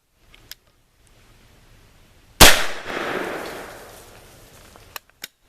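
A single loud H&R Pardner .410 shotgun blast aimed at soda cans outdoors, an abrupt crack whose boom rolls off into a long fading echo, framed by a couple of small clicks before and after.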